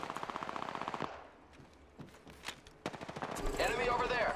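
Rapid automatic gunfire in the Apex Legends video game, bursts of repeated shots with pauses between and a swelling blast near the end, mixed with faint in-game sounds.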